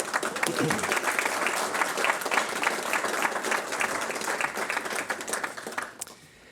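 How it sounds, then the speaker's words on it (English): Applause for firefighters fills a Los Angeles fire commission meeting, a dense steady clapping from a room full of people that runs for several seconds and then trails off abruptly. "Let's give a round of applause to our members."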